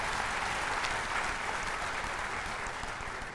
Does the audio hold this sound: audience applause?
yes